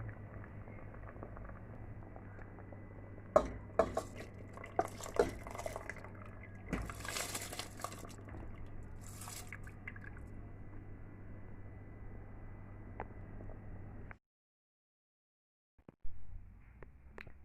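Washed rice pours into a pot of peas for Jamaican rice and peas, giving soft wet splashes and patters nearby over a low hum, then a sudden silence and a brief return of faint noise.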